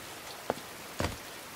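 Soft rain falls as a faint, steady hiss, broken by two sharper drips or splashes about half a second apart, with no voices.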